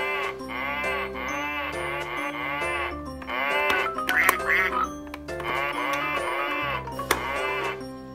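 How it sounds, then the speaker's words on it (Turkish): A toy plays an electronic tune with a synthetic lamb bleating over it, while a voice speaks briefly in Turkish in the middle. "Evet, o kuzu sesi."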